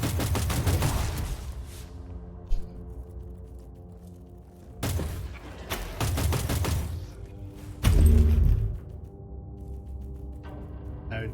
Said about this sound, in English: Shoot the Tyranids!